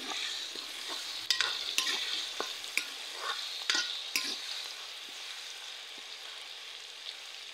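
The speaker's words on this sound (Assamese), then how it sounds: "এতিয়া মই ধুনীয়াকৈ সকলোবোৰ লৰাই ল'ম।" A spoon scrapes and clinks through coriander and cumin powder frying in a pan, with a steady soft sizzle and several sharp taps, close and alone.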